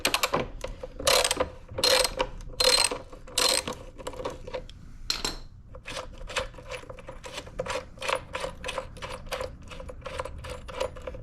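A ratchet wrench with a 10mm socket loosens the bolts on a Sun Joe AJ801E electric dethatcher, giving rapid bursts of close, sharp clicking in a steady rhythm with brief pauses between strokes.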